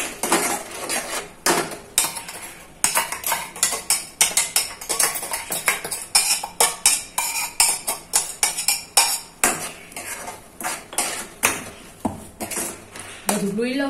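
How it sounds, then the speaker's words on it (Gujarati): Metal spoon scraping and clinking against a pan while tomato puree mixture is stirred, a quick run of close taps and scrapes that continues steadily throughout, with a voice talking over it. "પ્યુરી મતલબ કે ટમેટાને ક્રશ કરેલા. ઓકે, સરખું મિક્સ કરી લઈશ."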